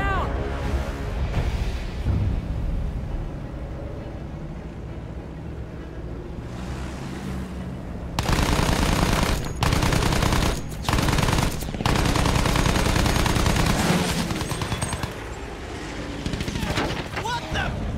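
Battlefield 1 gunfire aimed at German attackers, heavy bursts of rapid machine-gun fire that start midway and stay loud and dense, with a rumbling engine and water-like wash under shouting voices.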